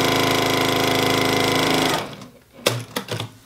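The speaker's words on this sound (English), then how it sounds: "I'm just going to sew right across the bottom." A sewing machine stitches straight across the bottom of a reversible fabric bottle gift bag in a steady, fast continuous whir for about two seconds, then stops, leaving a few soft handling clicks and rustles.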